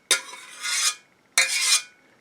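Canned salmon and creamed corn dropped onto cooked pasta in a baking dish, giving two short wet scraping slides, each a broad hiss-like rush lasting under a second, close and moderately loud with no voices.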